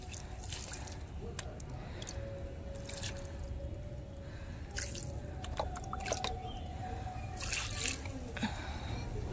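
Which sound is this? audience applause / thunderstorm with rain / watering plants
watering plants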